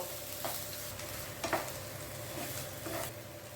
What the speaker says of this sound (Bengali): এবারে এটাকে আমি একটু কষিয়ে নেব।